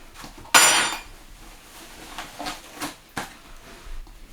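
A big spoon and a plate are handled for loaded cookie dough ice cream: one sharp clatter of crockery, then a few lighter clinks and taps nearby, with no talk.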